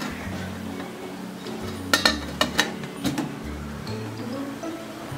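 A metal lid clinks down onto a pot of steaming kozhukattai (spicy podi dumplings) in a home kitchen: a quick cluster of sharp clanks and rattles over a low, steady burner hum.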